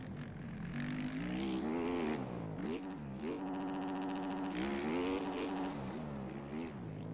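A dirt bike engine in the MX Bikes supercross game revs hard and steadily, its buzzing pitch climbing and dropping with throttle and shifts, loud and continuous throughout with no voices over it.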